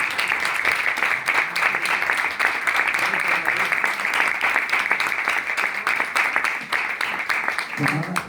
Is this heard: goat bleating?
no